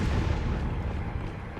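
Cannon fire landing near a castle in Resident Evil 4, a continuous heavy, rumbling blast that fills the whole moment loudly, with no talking.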